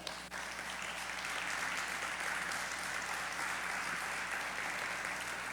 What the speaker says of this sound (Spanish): Si lo crees, dale un aplauso a Él.